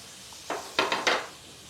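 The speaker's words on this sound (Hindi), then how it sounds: "इस टाइम पर डालना है आधा चम्मच ज़ीरा और ज़ीरे को अच्छे से तड़कने देंगे" Half a spoon of cumin seeds hits hot melted butter, giving three or four quick crackling sizzles close up, with a faint clink of a pan.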